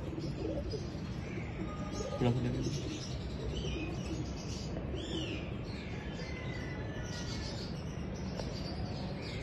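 Soft pigeon cooing in a busy outdoor setting, mixed with chirping birds and a constant background hiss.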